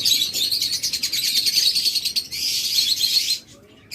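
Dense, continuous high chirping and twittering from a breeding pair of small cage birds close by, busy and overlapping, with a brief lull near the end.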